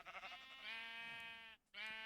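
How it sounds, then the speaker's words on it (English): A sheep on a sheep farm gives a single drawn-out, wavering bleat, clear and close, followed after a brief gap by the start of another bleat. "Anyway, sheep farm, lots of wool coming in"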